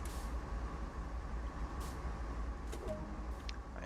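Trains in the video game Train Sim World 2 rumble steadily at low level, with brief hisses and clanks and a faint tonal squeal near the end, no talking over them.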